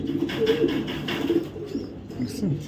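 Racing pigeons coo in soft, repeated low rumbling phrases close by, several birds overlapping steadily throughout with a faint background murmur.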